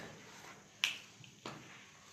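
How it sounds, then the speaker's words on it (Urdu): Two crisp finger snaps, sharp and close, about half a second apart, in an otherwise quiet room with faint background hiss. "اور پھر حضور علیہ السلام نے اپنے ہاتھ سے چٹکی بجائی"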